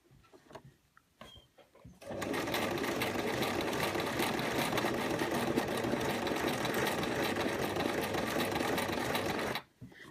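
A sewing machine stitches fabric for a sugar skull pincushion, starting after a few quiet clicks and then running in a steady, fast mechanical whir for about seven seconds before stopping abruptly, close and with no talking.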